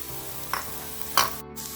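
Sliced onion hitting hot oil with ginger and garlic, a soft steady sizzle broken by two sharp stirring scrapes, quiet and close with no voices.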